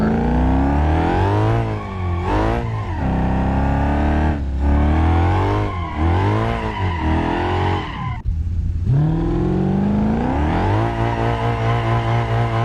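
A Bolide converted to a drift car in BeamNG Drive roars loudly, revving hard and repeatedly with tires squealing through burnouts and slides, cutting out briefly before the engine climbs again.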